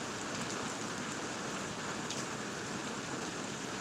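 Rain falling in a park, an even, faint hiss of drops with no breaks or voices.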